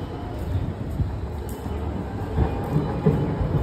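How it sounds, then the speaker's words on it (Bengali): A Delhi metro train arriving rumbles steadily with low clatter and a few soft thumps, fairly close and continuous, with no voices. "এসছে আমাদের মেট্রো।"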